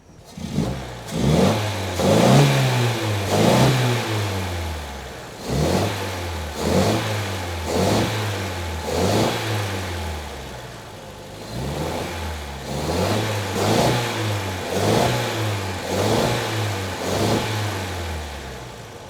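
A 1964 Triumph TR4 engine, idling for a long time, is snapped open repeatedly: loud, close revs surging and falling back about a dozen times in a steady rhythm, with no talking.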